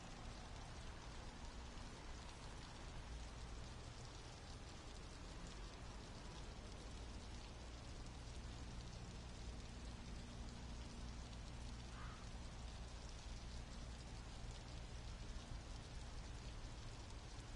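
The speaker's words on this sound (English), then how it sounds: "the field's not going to be able to hold up if the rain gets any worse than this" Steady, dense rain pours down over a baseball stadium in MLB The Show 26, a constant even hiss filling the whole stretch with no talk over it.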